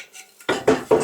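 A tool chops a row of notches into the bottom of a mortise hole in a wooden window frame, making three sharp, close strikes in quick succession after a short quiet lead-in.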